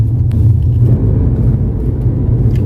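A car rolls steadily along a road, with a continuous low rumble of engine and tyres heard from inside the vehicle. No one talks.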